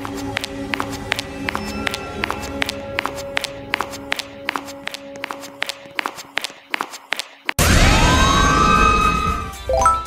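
A police-style siren from a Roblox horror obby game wails loudly. A rapid series of sharp clicking beats comes first, then a continuous rising and falling electronic tone takes over.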